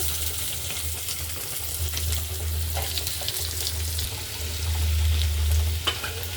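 Chopped onions frying in a pan make a continuous close sizzle with light stirring scrapes over a low steady hum that swells toward the end, with no one speaking.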